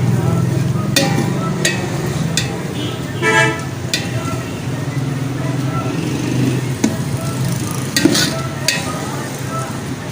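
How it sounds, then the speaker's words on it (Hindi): Moong dal cooked dhaba style is stirred in a pan with dried fenugreek leaves: a spoon scrapes and clinks against the metal in irregular strokes over a low background sizzle. "अब इसको अच्छी तरह से आपने करना है मिक्स।"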